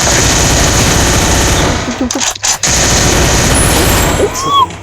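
Dense rapid gunfire rattles continuously in Free Fire, with brief pauses and sharp bursts, loud and close, like automatic weapons.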